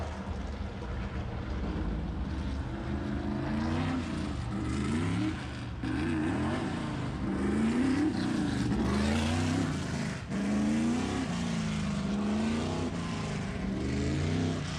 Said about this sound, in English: Brand new Mark Hewson built Shark Racing engine